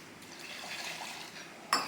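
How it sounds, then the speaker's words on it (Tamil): Water pours and swishes faintly in a mixer jar for under two seconds, ending in a brief clink of a container. "தண்ணி நல்லா தாராளமாக ஊற்றி கழுவி ஊற்றிக்கிறேன்"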